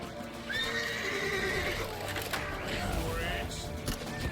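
A horse neighs in The Witcher 3: Wild Hunt, a long shrill whinny followed by a second shorter one, amid clip-clopping hooves and game action, with voices shouting over it.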